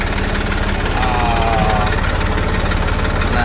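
A farm tractor engine idles close by in a field, a loud steady low throbbing with an even rapid pulse throughout the short stretch.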